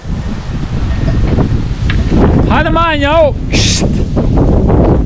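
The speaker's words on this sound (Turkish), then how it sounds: "Rüzgar çok esiyor." Strong storm wind buffets the microphone with a constant low roar on a mountain at night, while a person speaks briefly partway through.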